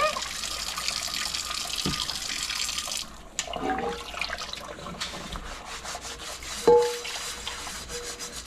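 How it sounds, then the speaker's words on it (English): Scrubbing and rubbing against cast iron pans in running hot water, with sloshing and a few clanks, steady and close. "we are going to give these a scrub and get them cleaned up"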